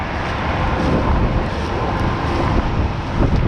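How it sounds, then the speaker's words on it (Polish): Strong wind buffets the microphone during a corn harvest in a field in Mazovia, a loud continuous rumbling roar that masks everything else with steady gusting. "Ale wieje bardzo mocno. Nie wiem jak to będzie słychać."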